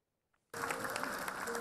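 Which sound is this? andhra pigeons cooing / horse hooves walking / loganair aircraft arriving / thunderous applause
thunderous applause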